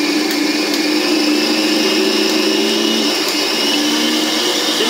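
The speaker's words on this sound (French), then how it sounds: "C'est le moment que je vais choisir pour allumer mon batteur." An electric mixer runs at high speed while making rose-flavoured macarons, giving a steady, loud whirring hum that stays constant with no talk.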